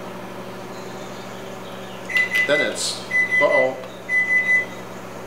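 A microwave oven hums steadily while a series of short electronic beeps sound in groups, with brief speech and kitchen clatter nearby.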